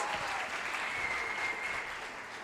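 Soft, distant applause from a small church home-group gathering, a steady wash of clapping in praise of Jesus, faint and even throughout with no clear voices.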